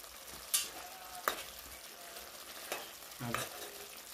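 Food cooks in a pan with a soft, steady sizzle, broken by several sharp clinks and scrapes of a utensil stirring, all quiet and close.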